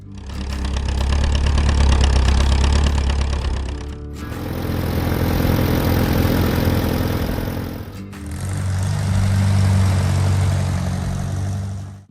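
A 1950 Allis-Chalmers CA tractor engine runs steadily at idle in three loud, continuous segments divided by brief dips, a low throbbing rumble with no voices.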